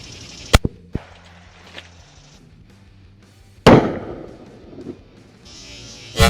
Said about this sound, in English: I'm gonna shoot them all pretty close to near point blank here.